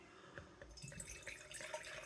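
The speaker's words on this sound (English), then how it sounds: "Let's pour it into this nice Riedel glass." Cider is poured quietly into a Riedel glass, with soft splashing, trickling and fizzing close by. There is no talking.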